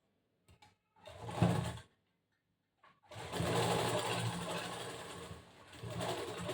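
A sewing machine stitches the front part of a cross-cut blouse, with a short whirring burst followed by a longer, steady run of close, loud mechanical stitching and no talk.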